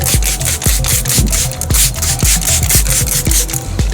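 Wet sanding by hand with 100 grit sandpaper, a close, loud rhythmic rasping of quick back-and-forth strokes repeating steadily without pause.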